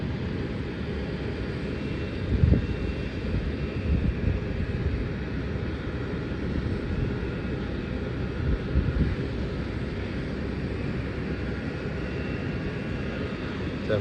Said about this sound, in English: So that is on Boeing 787 or the Dreamliner.